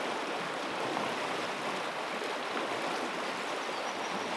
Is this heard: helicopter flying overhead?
no